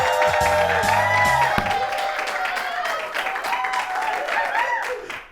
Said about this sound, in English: I love when the audience applause ebbs and flows